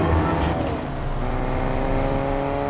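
Modified car driving in Fortnite, a steady droning engine with tonal revving harmonics that shift slightly in pitch, loud and close throughout.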